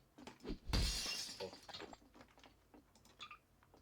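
Glass shatters loudly at a classroom Christmas party in Poland, a sharp crash of breaking glass followed by scattered tinkling fragments and light clatter, with faint voices in the background.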